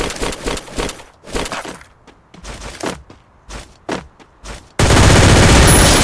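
An MP5 fires in a Free Fire battle royale match in repeated rapid bursts, loud and close, with short pauses between volleys, ending in a sustained loud roar of noise.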